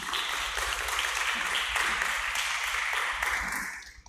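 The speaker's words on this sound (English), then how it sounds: "How about a round of applause for great leadership for this event and others?" An audience applauds at a public policy event on federalism: dense, steady clapping from a full room, loud and sustained, then fading out at the end.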